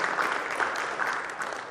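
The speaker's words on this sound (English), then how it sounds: "I think you should give yourself a round of applause." Audience applause at a live talk, a dense, steady wash of many hands clapping at once, continuous and fairly loud for the whole stretch with no voices on top.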